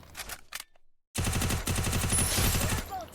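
UMP submachine gun fire in the Free Fire battle royale game: after a brief quiet gap, a loud, rapid, sustained burst of close automatic shots rattles on without pause.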